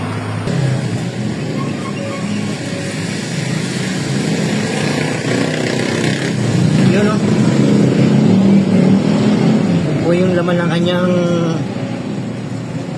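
Honda Click 125i scooter engine running after being submerged in a flood, with water mixed into the oil, a steady close-up motor drone continuing through the whole stretch while people talk over it.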